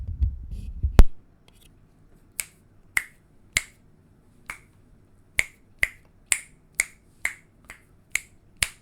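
Finger snaps picked up by a USB microphone switched to omni pattern, about a dozen sharp clicks in an irregular rhythm, close and fairly loud, with some room sound between them after a brief rustle at the start.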